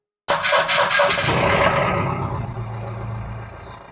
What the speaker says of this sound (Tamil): ஸ்டார்டிங் கண்டிஷன் பார்த்துருப்பீங்க நம்புறேன் சுத்தமான இன்ஜின் சவுண்டோட இருக்கு